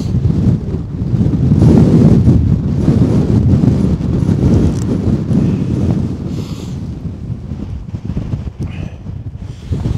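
Strong wind buffets the microphone on the exposed winter summit of Ben Lomond, a loud steady roar with gusts that swell and ease.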